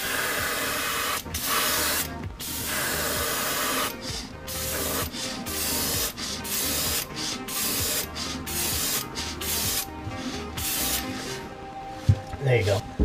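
Opaque black paint sprayed onto a custom-painted crankbait fishing lure, heard as close hissing bursts of spray separated by short pauses, with a brief clatter near the end.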